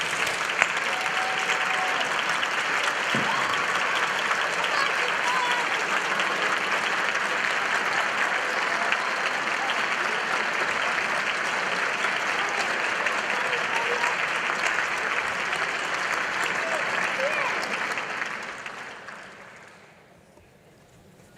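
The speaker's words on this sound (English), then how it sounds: "applaud your friends and family for the support that they've given you" An audience at a university degree ceremony applauds steadily in a broad, sustained wash of clapping that holds for most of the time, then fades out toward the end.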